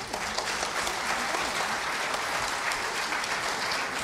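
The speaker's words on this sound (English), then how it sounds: "Let's give him a round of applause." Loud, steady applause fills a church service for the full few seconds, dense clapping from a large congregation with no talk over it.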